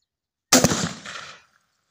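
A single loud, close 12 bore shotgun blast fires a AAA or BB shot shell at a target 25 yards away, a sharp crack with a brief echoing tail after silence.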